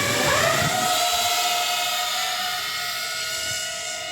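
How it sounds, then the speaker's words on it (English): An FPV drone carrying a GoPro Hero 10 whines loudly in flight, its high motor pitch rising sharply at the start and then holding a steady buzzing drone as it flies. "Got the GoPro Hero 10 version of the drone plugged in"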